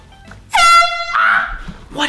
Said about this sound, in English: Oh my gosh, this air horn is so loud.